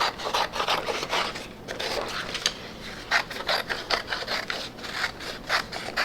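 Scissors cutting by hand around white sublimation transfer paper, a run of close, crisp rasping snips in an uneven rhythm, heard alone with no talk.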